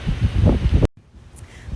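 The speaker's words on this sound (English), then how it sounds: "so windy" Strong outdoor wind on a windy day, a heavy low rumble of gusts hitting the microphone that drops off abruptly, leaving quieter breezy noise.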